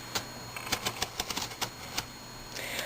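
Knife blade slicing through plastic and thick cardboard to cut out a square, heard as a quick series of close, sharp scraping clicks and snaps with short pauses between strokes.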